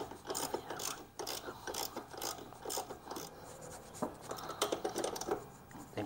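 A socket wrench ratcheting to cinch down bolts while servicing a McLane lawn mower, with quiet repeated clicking strokes in short bursts and some rubbing between them.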